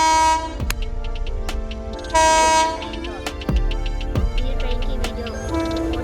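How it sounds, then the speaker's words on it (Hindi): Train rushing past on a railway track near a village, loud and close, with repeated horn blasts and rhythmic clattering of wagons over the rails throughout. "गाइस आ रही है ट्रेन आ रही है"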